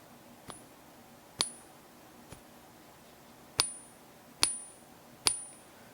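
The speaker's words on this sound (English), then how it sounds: "You can hear it doesn't have that nice long ringing sound" A fake silver coin struck to test its ring gives six quiet, short pings at irregular intervals, each a dull metallic tap that dies away quickly instead of ringing on, over a faint room hiss.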